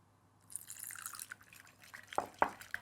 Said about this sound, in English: Start with a small dribble of water, about a tablespoon, and again, incorporate that.